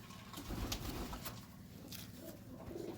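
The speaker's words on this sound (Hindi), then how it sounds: "ये तो बहुत ही अच्छा जेंगो कबूतर है" Low, throaty cooing from a Jengo pigeon at a loft, a steady murmuring coo running through the whole stretch with no voices over it.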